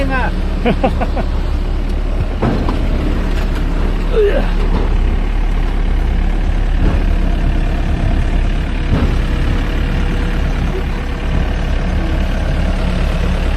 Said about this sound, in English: We're in the middle of a construction site right now.